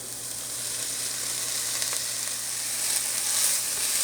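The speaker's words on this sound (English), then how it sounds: "I'm going to return the ground meat back into the pan." Ground meat and garlic frying in a pan for shepherd's pie, a loud, steady, close sizzle that swells slightly toward the end, with no voices.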